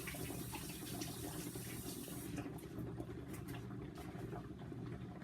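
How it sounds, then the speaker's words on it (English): Tap water runs steadily into a sink as hands are washed under it, a continuous close gushing that holds even throughout, with no talking. "let me just give my hands a wash"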